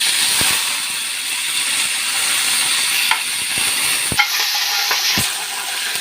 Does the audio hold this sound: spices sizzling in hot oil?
yes